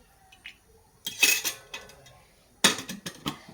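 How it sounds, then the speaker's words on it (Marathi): A metal ladle knocks against a kadhai while about one and a half ladlefuls of oil go in, giving two loud bursts of clanking metal at close range with quieter clinks in between. "तर मी साधारण दीड पळी तेल घालते"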